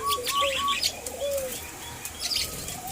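White-eared brown doves being hand-fed give soft chirps and coos alongside fluttering wing flaps, close and fairly quiet, with no voices.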